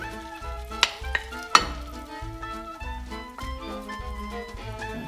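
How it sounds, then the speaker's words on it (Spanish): Meat added a little at a time to a frying pan of softened vegetables for a salpicón with oxtail, sizzling and crackling steadily with a few sharp clacks, close and fairly loud with no talk. "luego agregamos lo que es la carne. La incorporamos poco a poco"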